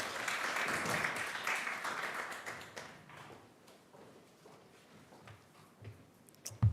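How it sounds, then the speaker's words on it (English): Conference audience applauding a speaker, a dense wash of clapping strongest over the first three seconds, then thinning into scattered claps and small knocks that trail off near the end. "Please, could you give another round of applause to Dr."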